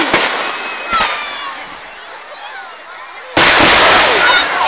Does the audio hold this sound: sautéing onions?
no